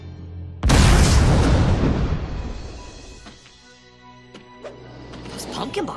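Pumpkin bomb explosion in the video game Spider-Man Friend or Foe, with one sudden loud boom and a long rumbling decay, followed by scattered smaller pops and debris sounds.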